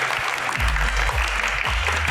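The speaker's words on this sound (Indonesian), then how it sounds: "Tepuk tangan yang paling meriah untuk bintang tamu kita pada malam hari ini." Audience clapping to welcome guest Taufik Hidayat at an evening Q&A event, a steady, dense patter of hands that carries on evenly for the whole stretch, with low rumbling thumps and some crowd noise underneath.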